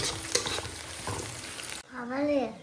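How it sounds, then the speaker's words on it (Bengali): Koi fish frying in oil gives a steady, close sizzle with a couple of clinks, then the sizzle cuts off and a brief voice-like sound follows. "এখন সোনামার জন্য তেল কই হচ্ছে।"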